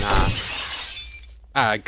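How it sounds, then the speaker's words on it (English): A bright, crashing glass-shatter burst fills the opening and decays into a hissy tail, the effect of a domain expansion in a Jujutsu Kaisen mod game, followed by a brief burst of voice at the end. "domain expansion that makes that stupid glass shattering noise"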